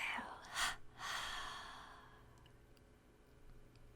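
A slow, soft breath is drawn and released during a guided meditation, faint and close, with a gentle sigh-like rush tapering into quiet.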